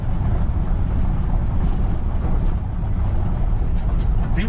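1969 Ford F-250 pickup with headers, driving in low gear, a steady loud rumbling engine and road drone heard from inside the cab, continuous throughout with no talk.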